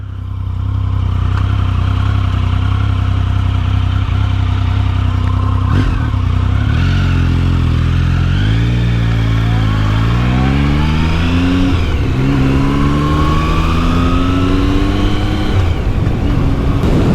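A Triumph motorcycle engine runs loud and close, its note climbing and dropping through several rising sweeps as it accelerates and shifts, with wind rush over the ride.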